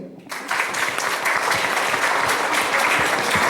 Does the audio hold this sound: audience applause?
yes